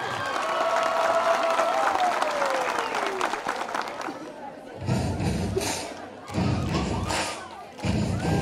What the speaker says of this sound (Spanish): Para ellos también, un fuerte aplauso.